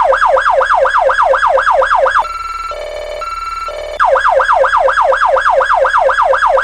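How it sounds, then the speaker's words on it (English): Roblox ANP police siren in yelp mode: a fast, loud, continuous rising-and-falling wail, broken midway by a short steady two-tone interruption before the rapid yelp resumes, with no voices. "This is their yelp."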